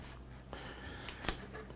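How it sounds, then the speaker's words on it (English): A knife makes thin cuts through a tilapia fillet in a kitchen: a few soft, close scraping strokes and one sharper slice near the end, all quiet. "Another thin cut."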